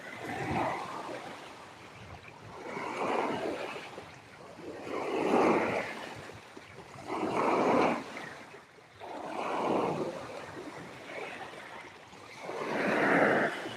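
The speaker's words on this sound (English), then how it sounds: "this is more what I was expecting, waves and stuff" Waves wash onto a Lake Ontario beach in slow, regular surges, each swelling to a rushing crest and ebbing away, about six in a row, heard close with no voices.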